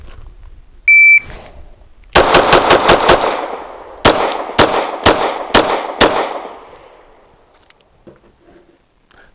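Glock pistol fired at target practice: a short beep, then a rapid string of about six sharp, loud shots, followed by five more spaced shots, each ringing out briefly.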